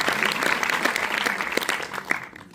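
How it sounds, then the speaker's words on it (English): Applause from a cinema audience at a Q&A screening at Pathé Alésia in Paris, brisk, fairly close clapping from many hands that thins out toward the end. "je pense qu'on peut applaudir madame"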